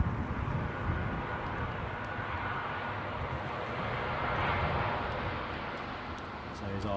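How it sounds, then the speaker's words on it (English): An inbound Jersey airliner passes overhead during live plane spotting, a broad, steady roar that swells slightly and fades, heard alone with no talking. "So here's our inbound Jersey plane."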